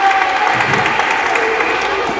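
Audience applause at a concert in a church sanctuary, a steady wash of many hands clapping with some crowd murmur under it, fairly loud and sustained throughout.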